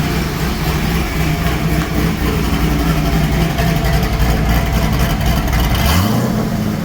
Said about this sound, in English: Let's say your engine's running a little bit rough,